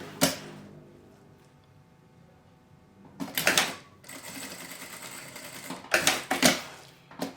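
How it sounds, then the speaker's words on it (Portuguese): Short bursts of a sewing machine stitching along the edge of a beach bag's fabric to fix the strap in place, close and clear, with quiet pauses and rustling between runs. "vou fazer uma costurinha bem na beiradinha, prendendo a minha alça"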